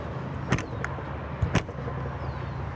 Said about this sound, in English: We'll go ahead and close this door real quick.